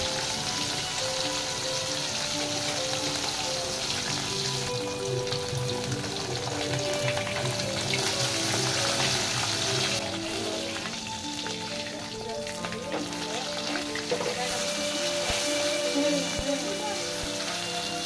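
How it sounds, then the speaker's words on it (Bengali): Bata fish fry in hot oil in a pan with a loud, continuous crackling sizzle that runs steadily throughout, with no talk over it. "দেখো মাছগুলো আমার সুন্দরভাবে ভাজা হয়ে গেছে"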